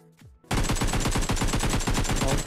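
Automatic gunfire in PUBG Mobile, a rapid continuous burst of loud close shots after a short quiet lead-in with a brief game sound.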